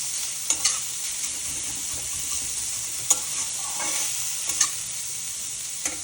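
Onions for aloo paratha stuffing frying in a pan, a loud steady sizzle with a few sharp stirring scrapes and taps, close up and with no one speaking.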